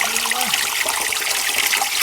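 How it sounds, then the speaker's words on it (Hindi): Water poured onto an eggplant bed in a hillside kitchen garden, a steady close splashing and trickling rush that runs throughout without pause, with no talking. "इसी को अभी मैं पानी दे रही हूँ"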